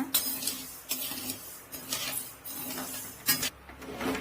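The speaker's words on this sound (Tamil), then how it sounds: "கேவுரு வறுக்கிறப்ப மிதமான சூட்டில் இருக்கணும், இல்லைன்னா கருகி போயிடும். கிளறி விட்டுக்கிட்டே இருங்க." Finger millet dry-roasting in a pan over medium heat while being stirred steadily, giving a run of close, rhythmic scraping and clinking strokes against the pan with no talk.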